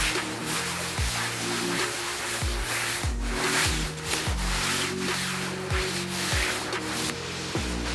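Fabric of a Kuiu Super Down Pro jacket rubbing against itself, a continuous scratchy swishing with rhythmic brushing strokes, close and fairly loud, no talking.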